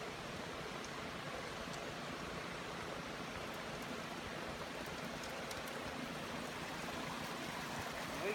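Water rushing steadily through a large gold sluice at a mining site in Idaho, a broad, even, close wash with no pauses or voices.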